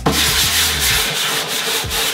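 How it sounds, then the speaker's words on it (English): Sandpaper of 120 grit rubs across painted kitchen cabinet faces in quick, close, rhythmic back-and-forth strokes, loud and scratchy with brief pauses between passes. "So now we just need to sand the faces."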